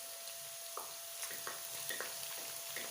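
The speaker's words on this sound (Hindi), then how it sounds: "2 से 3 मिनट इसको भून लेते हैं।" Minced ginger and garlic fry with onions in a pan for a chana dal dish, giving a steady, soft sizzle with occasional light scrapes and clicks from stirring, and no voices.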